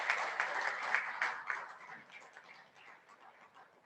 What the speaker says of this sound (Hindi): मैं एक बार चाहता हूँ कि तालियों से उनका स्वागत करें।